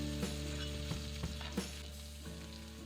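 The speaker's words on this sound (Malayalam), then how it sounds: "ഇനി ഇതുപോലെ തന്നെ ബാക്കിയുള്ളതും വറുത്തെടുക്കാം" Sliced bitter gourd sizzles in hot coconut oil, with a steady crackle broken by several sharp clinks of a spoon stirring the pan.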